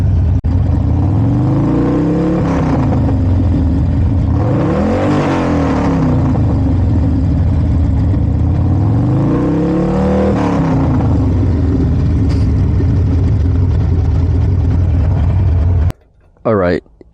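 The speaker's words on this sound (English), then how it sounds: "Let's rev it up." A Harley-Davidson Sportster 48 motorcycle engine revs hard and close, rising and falling in three big swells over a steady loud idle before it cuts off near the end.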